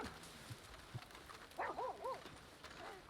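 A dog gives a few short barks, faint and distant, set against a low background hiss.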